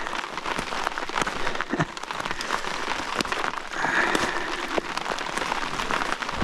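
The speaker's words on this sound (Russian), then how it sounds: "О, такая дождина поливает." Heavy rain pours down around a lake during a fishing trip, a dense, continuous patter with scattered closer drops striking surfaces and no talking.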